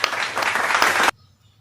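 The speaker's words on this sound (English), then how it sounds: "Let's clap our hands for Group 3." A class claps for a group in a brief, dense burst of applause, close and loud, cutting off abruptly into quiet.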